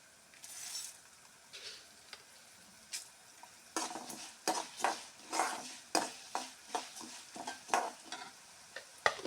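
Coriander seeds and spices dry-roasting in a pan for a drumstick curry, a faint background crackle broken by repeated rhythmic scraping and rattling strokes of stirring, growing busier in the second half, no talk.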